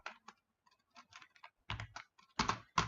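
Flutter code is typed on a computer keyboard, close and fairly quiet: irregular bursts of key clicks with short pauses, then a few louder, heavier keystrokes near the end.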